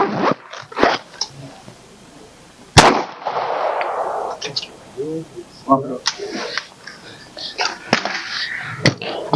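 Sharp, loud pistol gunshot cracks ring out irregularly at an outdoor range, with people talking between the shots.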